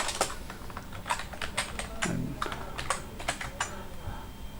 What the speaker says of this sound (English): press enter and then put ls to view the files